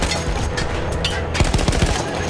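Gunfire in the World War I shooter Battlefield 1 rattles in dense, loud bursts of rapid shots and booms throughout, with no pause.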